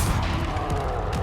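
A Confringo blasting spell in a video game goes off as a dense, loud burst of crashing, booming noise lasting about a second, close and alone.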